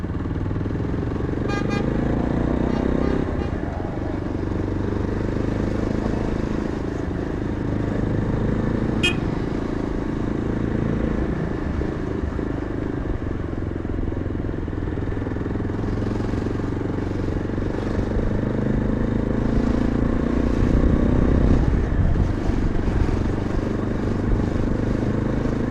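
Busy Shillong street traffic heard while riding a Yezdi motorcycle through the mountains, a continuous close engine rumble with passing vehicles and brief horn honks cutting in, steady and loud throughout.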